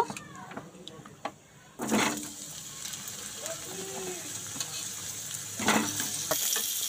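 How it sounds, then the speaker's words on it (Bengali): Potatoes, beans and eggplant frying in a pan of oil with a bay leaf, a steady soft sizzle with louder hissing bursts as the vegetables are added and stirred. "এখানে দেখো আলু, শিম আর বেগুনটা আমি দিয়ে ভেজে নেব"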